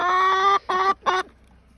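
Farm chickens clucking loudly up close, three drawn-out squawking calls in quick succession, then quiet.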